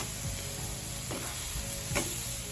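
Chicken breasts cook over a hot grill with a continuous close hiss, broken by a couple of short scraping clacks as the pieces are turned.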